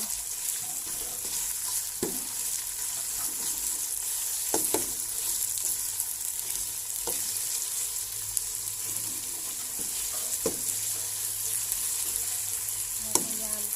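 Minced pork stir-frying in a pan for Thai basil pork, a steady low sizzle with occasional sharp scrapes and clinks of a spatula against the pan at irregular intervals.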